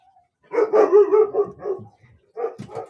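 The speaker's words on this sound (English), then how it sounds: "Very sorry about the dogs." A dog barks in a quick burst of several loud, close barks, pauses, then gives another short bark.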